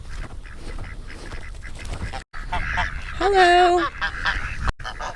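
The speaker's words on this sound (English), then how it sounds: "I'm gonna pop in and check our mama geese, see if we have any goslings." Domestic mother geese honk loudly on a farm, with a burst of overlapping calls in the middle, while a person speaks briefly near the start.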